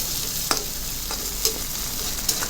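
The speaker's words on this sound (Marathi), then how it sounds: "एक चमचा अद्रक आणि लसण असा ठेचून घ्यायचा आहे आणि मग तो आपल्याला फ्राय करून घ्यायचा आहे" A steady, hissing sizzle of crushed ginger and garlic frying in hot oil, broken by a few sharp clinks as a spoon stirs the pan.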